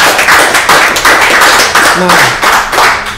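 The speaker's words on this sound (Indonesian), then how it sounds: "Tepuk tangan dulu." An Indonesian audience at a social media talk event claps on cue, bursts of close, loud hand clapping in uneven pulses, with a voice speaking briefly over them.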